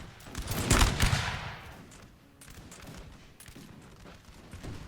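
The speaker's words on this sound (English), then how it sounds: "Grenadiers, open fire!" Grenadiers fire a musket volley in the Napoleon: Total War game, battle of Lithuania against Russian troops: a loud crackling fusillade near the start, then scattered distant shots and battle rumble trailing off.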